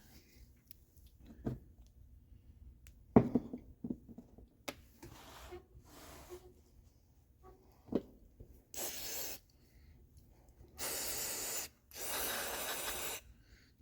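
Carburetor cleaner sprayed onto the carburetor of an original 1980 John Deere 317 garden tractor: two sustained hissing aerosol bursts, the second longer, following scattered handling clicks and knocks.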